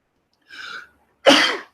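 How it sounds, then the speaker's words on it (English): A short breathy intake followed by a loud, sharp burst, a single close sneeze with no talking. "I'm going to sneeze."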